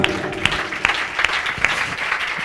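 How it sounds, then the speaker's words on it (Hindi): A congregation at a Christian worship service claps for Jesus in a steady, even rhythm of about two or three claps a second, loud and close, with faint voices beneath. "ताली वाजवा यीशुसाठी."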